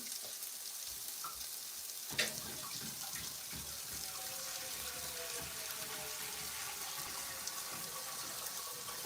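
Steady running water pours and hisses into a pot, with a soft clank of metal early on and a continuous rushing stream throughout.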